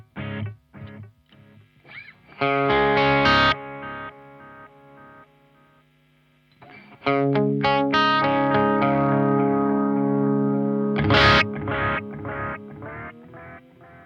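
An electric guitar runs through a Suhr Discovery analogue delay pedal, with short plucked notes and then sustained distorted chords whose repeats trail off with warm, echoing tails.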